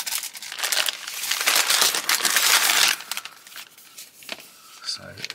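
A plastic bag crinkles loudly and continuously as a Lego-compatible building kit is unpacked, with bursts of rustling that fade into quieter handling toward the end.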